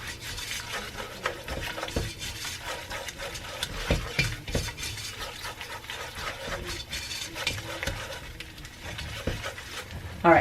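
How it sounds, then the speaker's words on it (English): Flour cooking down into a roux in a pan, stirred with repeated scraping strokes against the metal and a faint sizzle underneath, fairly quiet and close. "I'm going to cook the flour down a little bit so we can get rid of that raw flour taste"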